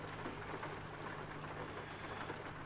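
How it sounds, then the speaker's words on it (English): Rain falls steadily in a trucking simulator game set in Oklahoma, a dense, even hiss of drops on surfaces with low rumbling beneath. It continues unbroken throughout at moderate loudness. "You think the rain will turn off?"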